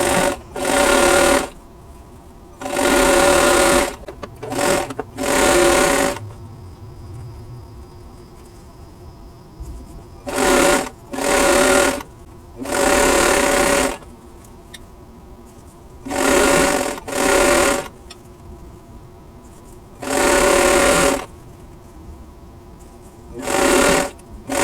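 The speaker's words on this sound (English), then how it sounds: "I'm going to go ahead and sew these together" A sewing machine stitches quilt block squares and half square triangles in about ten loud, close bursts of rapid whirring, each lasting a second or two and separated by short quiet pauses.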